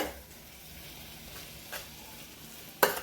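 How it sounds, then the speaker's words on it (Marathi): Mashed eggplant for bharit is stirred into hot tempering, giving a quiet steady sizzle with a few stirring scrapes and one sharp clatter near the end. "आता आपण हे फोडणीमध्ये असे टाकून घ्यायचे. हे बघू फोडणी मिक्स करायचे."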